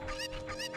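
Cucco chickens clucking in the video game The Legend of Zelda: Ocarina of Time, Kakariko village, a few quick repeated squawky clucks over a steady game-music hum, close and fairly loud.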